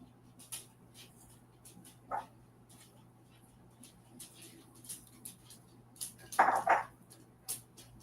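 Dogs barking indoors at other dogs outside, a few faint, scattered barks and yelps with a louder cluster near the end over quiet room tone.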